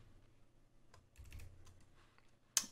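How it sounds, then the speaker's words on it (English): Computer keyboard keys pressed for copy-and-paste shortcuts with mouse clicks, a few quiet scattered taps ending in one sharper click, close and alone. "I'm just going to control C, copy, click in the empty space, control V"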